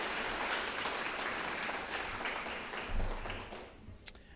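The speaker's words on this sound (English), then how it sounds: "So let's give our advisors a round of applause." Crowd applause for the advising staff at the UCF Nicholson Undergraduate Games Showcase, a steady wash of many hands clapping at moderate distance, fading near the end with a few isolated claps.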